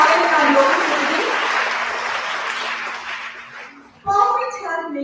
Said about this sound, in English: Let's have a huge round of applause for the budding talent in our local community